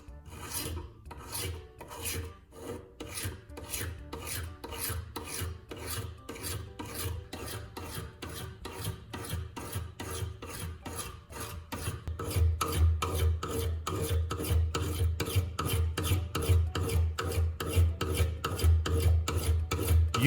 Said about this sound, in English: Take a welding rod and spread a thin layer of toothpaste along the cutting edge. Hold the blade steady and rub the rod along the edge